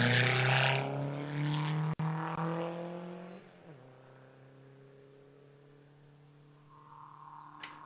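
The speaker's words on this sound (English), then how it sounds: "As the Riley of Simon Kellaway leaves the start." Riley racing car pulling away from a hillclimb start line with a loud, rasping engine that climbs through revs, shifts gear, then fades steadily into the distance, a higher whine rising briefly at the end.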